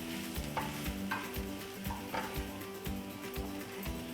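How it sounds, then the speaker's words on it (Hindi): Potato patty filling is mixed in a pot, and a spoon scrapes and knocks against the vessel in a steady repeating rhythm. A low hum sits underneath, the sound is fairly quiet, and no one speaks. "इसको अच्छी तरह मिक्स कर लेंगे।"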